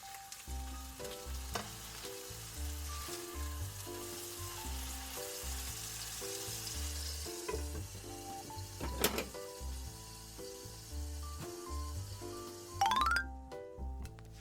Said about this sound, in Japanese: 蒸し焼きにして半分ぐらい火が通ったらひっくり返しましょう。